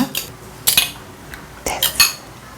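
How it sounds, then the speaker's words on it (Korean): Two eggs whisked in a bowl for Korean seaweed soup, heard as a few short bursts of utensil clicks and scraping against the bowl, close and fairly quiet, with no talk. "저는 두 알을 이렇게 풀어줄 텐데"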